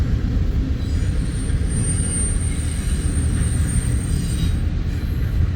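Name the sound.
freight train with diesel locomotives passing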